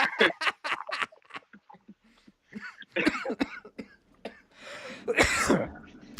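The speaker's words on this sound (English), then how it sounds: "You make me cough." A person coughs repeatedly up close, with a run of sharp bursts, some throat clearing and a longer raspy coughing fit near the end.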